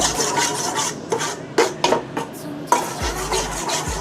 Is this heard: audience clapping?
no